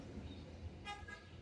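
A motorcycle horn gives one short, faint honk after a new horn button is fitted during a bike repair, sounding briefly against a quiet background hum.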